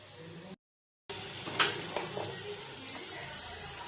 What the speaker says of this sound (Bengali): আমি মিষ্টি কুমড়োগুলো একটু কম স্টিমে ভেজে নেব।